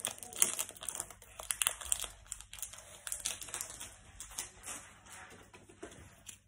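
Pokémon trading card booster pack being torn open, with close crinkling foil wrapper, tearing and rustling in irregular bursts and no voices.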